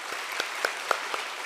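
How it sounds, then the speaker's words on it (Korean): Church congregation applauding during a Sunday installation service for elders, deacons and deaconesses, a brief burst of scattered clapping with a few sharper claps standing out, moderate in level and fairly close. "박수로 환영하겠습니다"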